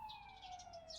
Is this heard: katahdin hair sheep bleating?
no